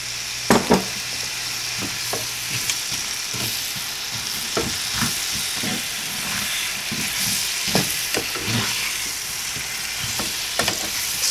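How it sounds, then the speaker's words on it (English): Apples fry in a hot pan for Southern fried apples, a steady broadband sizzle with sharp crackles and spits scattered throughout, close and fairly loud, with no voices. "Since that's getting hot, I'm gonna go ahead and put the apples in."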